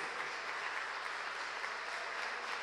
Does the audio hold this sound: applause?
yes